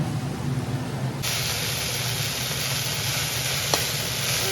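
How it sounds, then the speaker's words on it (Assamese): Ingredients such as tomatoes, ginger, garlic and boiled potato dry-frying in a pan, a steady close sizzle and hiss that brightens sharply after the first second and carries on alone without voices. "গোটেই পানীখিনি শুকাই একদম শুকানকৈ এনেকৈ ভাজি ল'ব লাগে"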